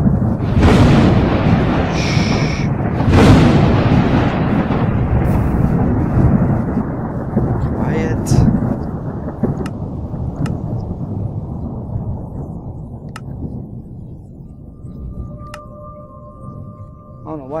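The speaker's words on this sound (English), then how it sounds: "Because I don't want it thundering in my video." Rolling thunder in the Minecraft video game, a loud, deep rumble that swells early and slowly fades over many seconds, with a few faint game sound effects near the end.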